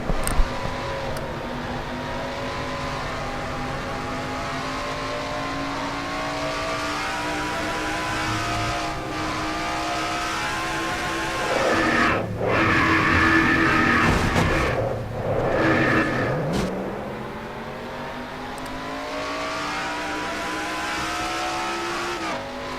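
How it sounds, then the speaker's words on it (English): An onboard stock car engine roars in a NASCAR-style racing video game, holding high, loud revs. The pitch dips and climbs again midway as the car slows and accelerates, with no talking. "On board Joseph Romero's car"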